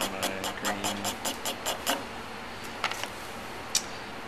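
Pastel stick scraping across paper during a marker and pastel drawing, a run of quick rhythmic rough strokes in the first two seconds, then a few scattered scratches, close and fairly quiet with no talking.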